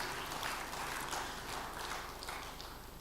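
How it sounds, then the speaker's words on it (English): An audience at a Nigerian Academy of Engineering induction ceremony applauds, a dense, steady patter of many hands clapping in a hall, held at an even level and tapering slightly toward the end. "That calls for an applause."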